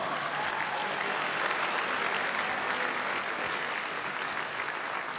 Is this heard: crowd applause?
yes